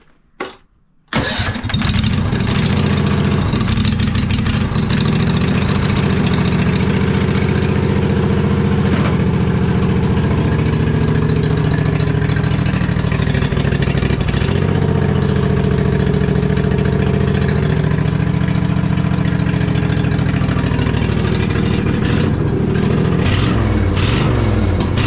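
A Husqvarna off-road vehicle engine cranks and catches on choke, then settles into a loud, steady, close idle that wavers slightly in pitch for the rest of the stretch, with no talk.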